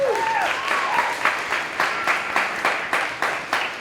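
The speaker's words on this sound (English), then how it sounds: "If we could give a round of applause for Mariska and Jess right over there." Applause at an open mic night, a rhythmic patter of hands clapping for two people, steady and moderately close, with a brief voice over the start.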